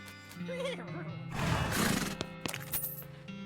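A horse whinnies briefly in the video game West of Loathing, a wavering neigh over soft game music, followed by a few clattering clicks.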